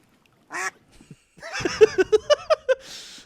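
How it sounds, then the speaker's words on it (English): Duck quacking close by, a run of about six sharp, evenly spaced quacks in quick succession, preceded by a couple of short squawks and some throaty murmuring. "got the one quack in"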